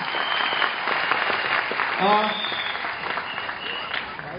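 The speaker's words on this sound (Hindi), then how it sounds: "एक बार जोरदार तालियां" An audience applauds at an indoor gathering, a steady wash of clapping heard under a voice speaking over it.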